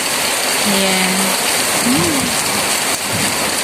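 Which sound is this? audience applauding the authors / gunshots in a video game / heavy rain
heavy rain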